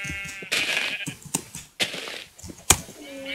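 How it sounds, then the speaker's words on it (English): Several short Minecraft sheep bleats sound close by, mixed with sharp hitting thuds, in a game-like soundscape. "Sheep, why are you so hard to kill?"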